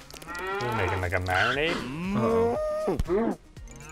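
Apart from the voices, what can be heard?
cow mooing in Lego cooking animation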